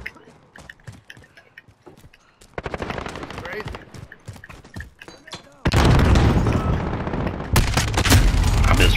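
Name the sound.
gunfire in Call of Duty Modern Warfare video game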